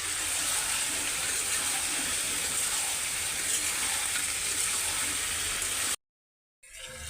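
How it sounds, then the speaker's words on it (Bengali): Meat with whole garlic cloves sautéing in oil in a pan, a steady dense sizzle filling the first six seconds before cutting out briefly and resuming faintly. "মাংসটা ভালো করে কষাই নিছি, এই যে তেলের উপর উঠে গেছে।"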